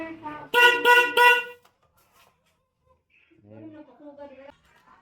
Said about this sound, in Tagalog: Yun po yung tunog ng ating hyper horn.